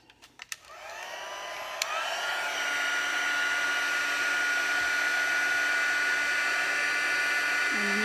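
A heat gun blows steadily while heating embossing powder for stamping, a continuous loud whooshing hum that starts after a couple of clicks and holds for several seconds with no talk.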